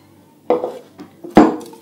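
Chocolate batter with added milk stirred briskly in a bowl, a utensil clattering against the sides in two or three short, close bursts separated by quiet pauses.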